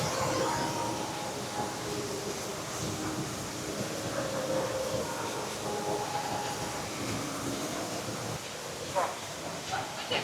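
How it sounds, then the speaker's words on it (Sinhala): Changi Airport Skytrain running between Terminal 2 and Terminal 3, a steady low rumble and hiss of the moving rail car heard from inside, fairly faint, with a brief clack near the end. "අපි ආපු ස්කයි ට්‍රේන් එක ටර්මිනල් 2 ඉඳන් ටර්මිනල් 3 යන එක"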